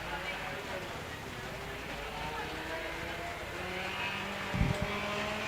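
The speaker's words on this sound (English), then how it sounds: "Morgan three-wheelers approaching saw bench." Morgan three-wheeler cars race up the Wiscombe Park hillclimb at a Vintage Sports Car Club meeting, giving a steady, distant engine drone with a brief louder thump near the end, and a voice talking over it.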